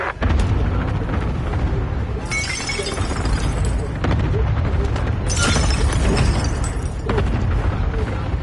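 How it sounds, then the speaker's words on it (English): Airstrike explosions in Call of Duty Warzone, loud and continuous booming blasts with crackling debris, two heavier surges standing out in the dense roar. "Airstrike target marked. Take it out. This is Phoenix 3. Strike inbound."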